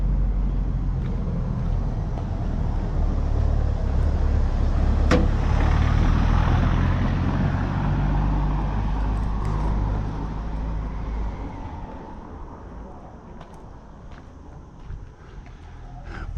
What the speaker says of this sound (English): Oh, cars, very small street this.